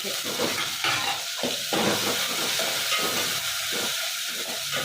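Steady, loud sizzling and hissing of split dry red chilies in hot tempering oil in a pan, with occasional stirring scrapes, continuous throughout.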